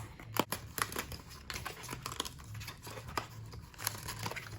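Crinkling and tearing of cardboard packaging as a filter for a Tommee Tippee Perfect Prep machine is unboxed, with scattered rustles and soft knocks, fairly quiet and close.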